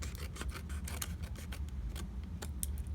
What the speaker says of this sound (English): We're going to cut a little bit of an angle, and then I'm going to cut down that line all the way.